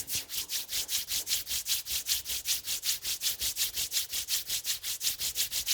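Palms rubbed briskly together in a steady, even back-and-forth rhythm, about four strokes per second, a close, soft swishing friction that continues unbroken and alone, with no talk.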